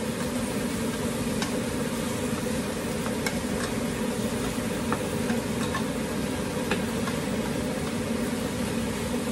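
Zucchini sizzles steadily in a frying pan while being stirred, a dense continuous crackle with occasional sharper pops and utensil scrapes throughout, close and even in level.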